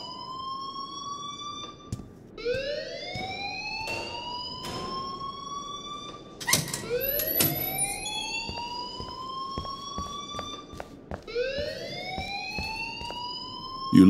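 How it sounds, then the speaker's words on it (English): An electronic fire alarm in the video game Life Is Strange wails in repeated rising sweeps, loud and insistent, each whoop climbing in pitch, with clicks and thuds scattered between the cycles. "please turn off that alarm since that's your job."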